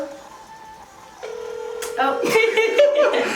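Phone dialing tones on speakerphone while placing a call to order sardine pizza, a sustained tone shifting into a series of short beeps, with people talking nearby.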